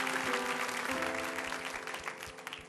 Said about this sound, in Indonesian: Berikan tepuk tangan sekali lagi untuk Kak His.